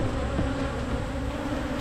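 Honeybees buzzing at an open hive during a late-July frame inspection, a steady close drone of many wings filling the whole stretch with a low hum and no break.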